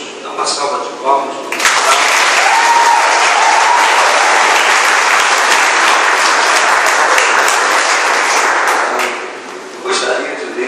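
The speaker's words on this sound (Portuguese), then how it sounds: "Dá uma salva de palmas." Wedding guests burst into loud, sustained applause, dense clapping and crowd noise filling the room for several seconds before tapering off.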